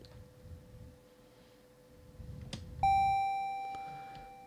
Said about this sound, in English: You just need to collect keys and press on little bells like that.